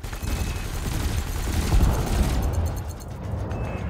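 A dense, continuous barrage of spaceship cannon and laser fire in the space combat game Elite: Dangerous, a roaring wall of rapid blasts and booms with no talking.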